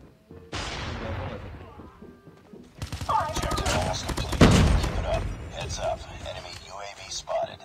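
HVK 30 assault rifle fire in Call of Duty Mobile, loud rapid automatic bursts with game explosions and effects, mixed under voice chat.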